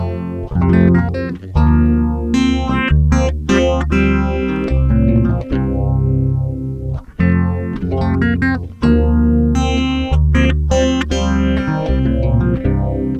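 Electric guitar played through an MXR phaser pedal into a Tascam unit, loud strummed chords and picked notes with a swirling, sweeping phase effect and distorted edge, played alone with no talking.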